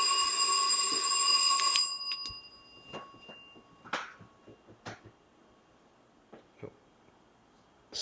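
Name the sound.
old bell ringing, like a WWII era field phone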